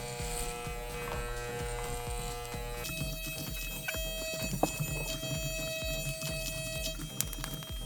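Electric hair clippers buzzing steadily at close range while cutting one's own hair at a 1/2 inch guard setting, a constant motor hum with the pitch shifting partway through.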